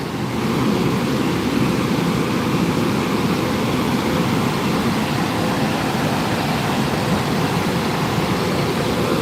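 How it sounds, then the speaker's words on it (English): High-pressure spray at the Love Car Wash blasts a van in a steady, unbroken hiss of rushing water that stays loud and even from start to finish. "It's the Love Car Wash."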